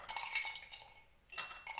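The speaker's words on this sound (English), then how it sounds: "Let's use some ice cubes" Ice cubes clinking into a glass of freshly made grape juice, a cluster of bright clinks and rattles, then a pause and a second burst of clinks at close range, with no talk.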